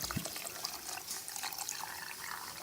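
Water pours from a bottle into a jar of preserved lemons in a steady, close, bubbling trickle that lasts a few seconds.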